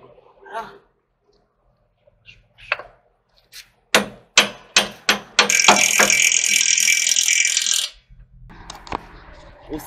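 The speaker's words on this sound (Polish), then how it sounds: "Ustawione, dokręcone, dokręcam strzemiona" A ratchet wrench tightening U-bolts on the leaf spring of a silo trailer, a run of sharp metallic clicks that speed into a continuous buzzing ratchet whir, then stop, with scattered clanks around it.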